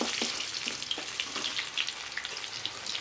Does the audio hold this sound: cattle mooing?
no